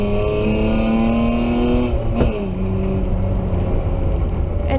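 BMW rally car in a European Rally Championship event at Taupo, racing in wet conditions: a loud, close engine howls at high revs, shifts gear with a brief dip and climbs again.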